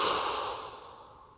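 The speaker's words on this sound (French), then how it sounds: "et soufflez fortement par la bouche." A strong breath pushed out through the mouth during a guided sophrology relaxation exercise, a single loud breathy rush that starts at full force and slowly fades over about a second and a half, heard alone with no talk.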